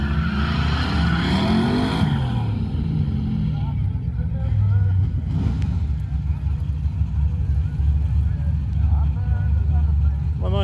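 A Corvette and a Mustang launch in a drag race at a motorsports park, engines roaring loudly up close with a rising pitch sweep, then fading into a distant drone while people talk throughout.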